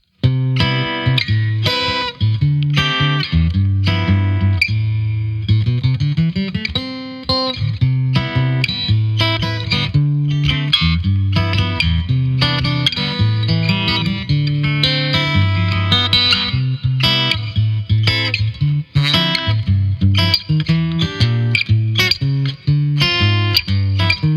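Strummed and picked acoustic guitar through a Line 6 POD GO preset, compressed and bathed in reverb, playing a continuous chordal passage at steady loudness.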